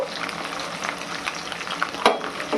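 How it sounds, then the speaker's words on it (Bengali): Pieces of rohu fish, some with roe inside, fry in oil with a close, busy sizzle and scattered pops and spatters, plus a few utensil scrapes and no talking. "এইভাবে একে একে আমি সব মাছগুলোকে ভেজে নিচ্ছি।"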